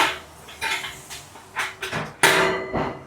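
Metal charcoal grate of an OG Bronco II grill being lifted and handled, giving a string of separate clanks and scrapes at close range with short pauses between them and no talking.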